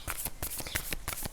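Close, crisp riffle of tarot cards being shuffled by hand, a rapid run of papery flicks and slaps in a steady rhythm.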